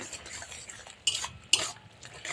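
Ground neem leaves are stirred into a neem and eggplant curry in a pan. A spoon scrapes and stirs over a faint sizzle, with two sharp metallic clinks close by.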